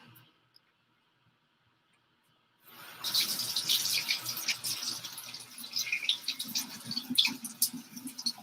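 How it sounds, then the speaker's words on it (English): Hands are washed under a running tap at a sink, a steady splashing rush of water starting abruptly after a quiet stretch and continuing close by with shifting spatters, no talking over it. "Let me just wash my hands."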